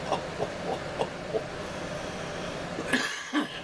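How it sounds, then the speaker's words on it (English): Several short coughs from one person recur through the recording, separated by brief pauses, with a louder double burst near the end, moderately near and heard over a faint steady background hiss. "Oops, actually had a cough."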